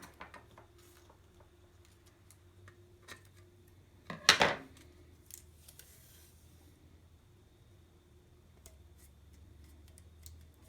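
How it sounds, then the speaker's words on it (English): Scissors cutting craft paper for a Halloween candle holder, with a brief, close snipping burst in the middle of a quiet stretch dotted with faint ticks and small handling taps. "I'm going to take my scissors and I'm going to cut it so that way it matches up"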